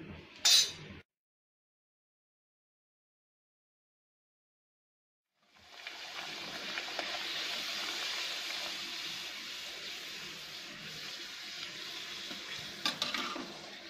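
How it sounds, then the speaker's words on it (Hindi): Puris fry in hot oil, a steady bubbling sizzle that begins after a brief clink and a few seconds of silence, with a small clatter near the end. "अब हम इसमें पूरी फ्राई करेंगे।"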